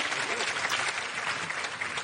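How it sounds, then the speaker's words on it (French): Steady applause from an audience at a stage hypnosis show fills the clip, dense clapping without pauses, fairly loud and close. "On l'applaudit ici, oui."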